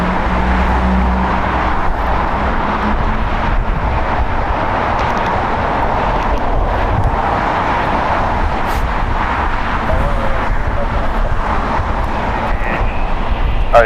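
Airliner noise at a major airport: a steady, loud broadband roar of jet engines sustained throughout, with no voices present, consistent with a British Airways Airbus A350-1000 arriving at LAX on runway 25 left.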